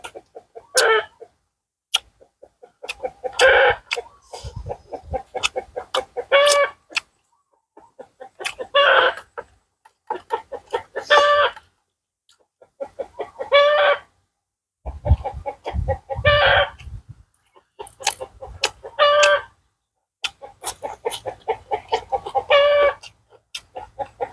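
Chickens cluck and a rooster crows in repeated bursts separated by short quiet gaps, loud and close, with no talking.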